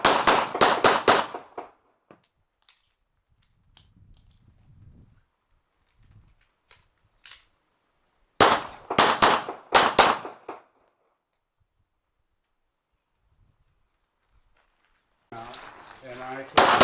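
A Beretta 1934 military handgun in .380 fires at about three yards on a range, two tight clusters of rapid sharp shots separated by quiet handling noises, with a brief burst of noise at the end.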